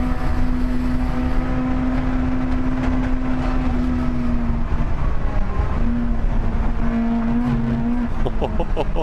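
BMW hot hatch on a Nürburgring lap, engine droning loud and steady at high revs throughout with brief dips around gear shifts, wind and road roar filling the background.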